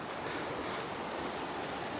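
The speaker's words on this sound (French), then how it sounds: "voilà la petite rivière qu'il va falloir passer" Small mountain river rushing along a trail where a narrow log bridges it, a steady broadband wash of flowing water, close and continuous with no voices.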